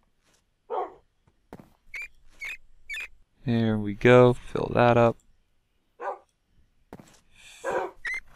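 Dogs bark in the medieval video game Medieval Mastery, a cluster of several close, loud barks in the middle, with someone talking before and after.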